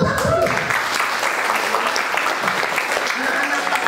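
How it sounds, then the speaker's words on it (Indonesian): Applause from a church congregation at an anniversary service, a steady dense wash of clapping sustained for several seconds with some voices and cheering mixed in underneath. "Beri tepuk tangan."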